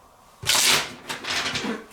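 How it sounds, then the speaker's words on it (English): Tarot cards riffle and rustle in two quick bursts of papery shuffling, close by, with a brief pause between them. "Let's do one more shuffle."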